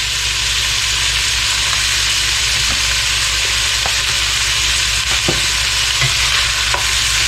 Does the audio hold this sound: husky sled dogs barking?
no